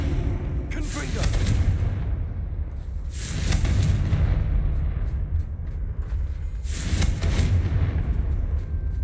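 The Confringo blasting spell explodes in Hogwarts Legacy: three loud, broad, roaring blasts arrive a few seconds apart over a steady low rumble.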